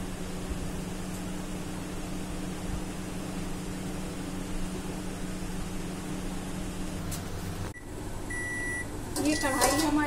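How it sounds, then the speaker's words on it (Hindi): A microwave oven running in a home kitchen while baking besan nan khatai, giving a steady droning hum for most of the stretch, followed by a few short electronic beeps near the end. "माइक्रोवेव भी हमारा हो गया है"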